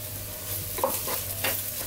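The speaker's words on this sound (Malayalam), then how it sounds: "നന്നായിട്ട് വഴട്ടി ഒരു 5 മിനിറ്റോളം ഇതൊന്ന് വഴട്ടി ഡ്രൈ ആക്കണം" Chicken samosa filling with crushed kasuri methi sautés in a pan, producing a brief steady sizzle with a couple of soft stirring scrapes. It is short and quiet, with no speech.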